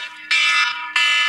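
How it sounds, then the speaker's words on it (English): A phone alarm sounds two loud, bright electronic beeps in quick succession with a short gap between them, close up and alone. "that's the alarm in my phone"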